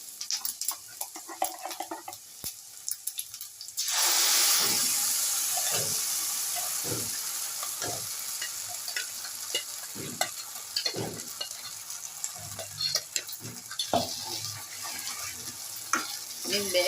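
Ground masala paste hits hot oil with onions fried until browned, setting off a loud, sudden sizzle that settles into steady frying crackle with repeated spoon scrapes and stirring clatter.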